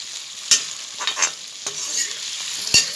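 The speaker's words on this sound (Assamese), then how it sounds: "এইটো আমি অলপ ভাজি ল'ম, যাতে কালাৰটো ধুনীয়া হ'ব" Tomatoes fry briefly in a pan with a close, bright sizzle, punctuated by a few sharp spatula scrapes and knocks against the pan, and no voices.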